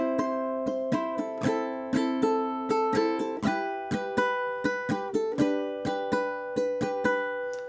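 Ukulele strummed alone in a steady down, down, up, down, up pattern, each bright chord attack ringing clearly, close and fairly loud with chord changes through the phrase.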